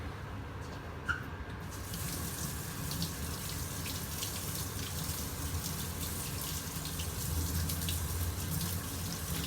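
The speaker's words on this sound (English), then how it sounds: "So I'm going to give this a little rinse." Tap water runs steadily under a faucet while Phalaenopsis gigantea orchid roots are rinsed for repotting into semi-hydroponics, a continuous close hissing splash with slight variations in the flow.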